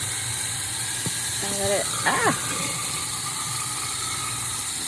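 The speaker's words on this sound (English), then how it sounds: "you run the disposal for about 30 seconds." A kitchen garbage disposal runs steadily, giving a dense mechanical grinding hiss across the whole clip, with a few brief squeaks and rattles and a short spoken phrase beneath it.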